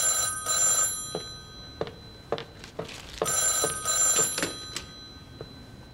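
A telephone bell rings in short repeated bursts, fairly close and clear, with brief gaps between rings and no talking over it.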